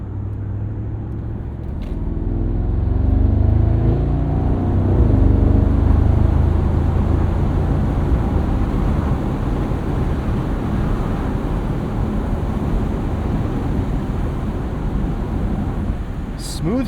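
A 2024 Mercedes SL63 AMG twin-turbo V8 with exhaust in loud mode: a deep, loud engine rumble and exhaust roar builds and holds steady, a powerful low drone close by with brief rises in intensity.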